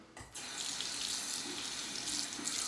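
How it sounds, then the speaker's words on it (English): Tap water runs steadily into a bathroom sink for rinsing a face after a shave, a continuous close hiss and splash with a brief quieter moment at the start and no talking. "I'm just gonna rinse my face off"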